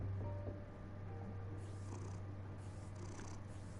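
A cat purring in a Batman video game, a faint, low rumbling purr that runs steadily throughout, with no talk over it.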